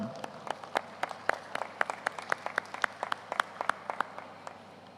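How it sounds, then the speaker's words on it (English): Scattered, sparse clapping from a small audience at a company's annual general meeting; individual claps ring out at an uneven rhythm and stay fairly quiet, with no voices. "I'd like to give them a round of applause for that"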